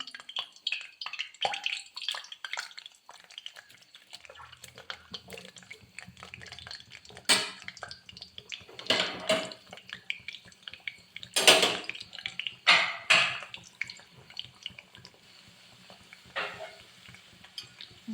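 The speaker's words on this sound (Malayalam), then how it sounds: "എണ്ണ ചൂടായിട്ടുണ്ട് ഓരോന്നായിട്ട് ഇട്ട് കൊടുക്കാം" Banana slices frying in hot coconut oil for banana chips: a steady, crackling sizzle with irregular louder bursts and clinks as the pieces are dropped in and stirred in the pan.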